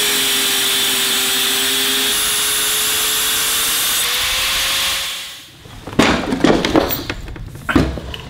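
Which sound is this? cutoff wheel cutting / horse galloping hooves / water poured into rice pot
cutoff wheel cutting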